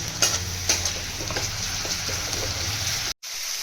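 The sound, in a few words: garlic and onion frying in a pan with a little water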